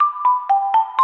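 The Tulatero lottery app jingle plays as a quick, bright electronic chime of about five pulsing tones in a steady rhythm, close and clear, with no voices.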